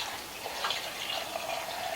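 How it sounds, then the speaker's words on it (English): Water runs from the spout of a Zero water purifier filter in a steady, soft trickle with a light hiss and faint splashing. It is close and quiet, with no voices. "Getting water from my water filter."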